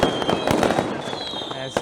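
Firecrackers and fireworks set off for a Hari Raya celebration, a dense, loud barrage of overlapping crackling bangs that continues without pause throughout.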